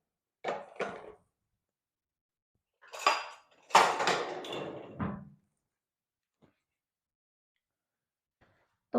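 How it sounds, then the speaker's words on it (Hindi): Dishes and utensils being washed by hand, with scattered clinks and clatters of pots and cutlery in short bursts separated by silence, close and fairly quiet. "फटाफट से हैंड टू हैंड इन बर्तनों को भी धो देती हूँ मैं"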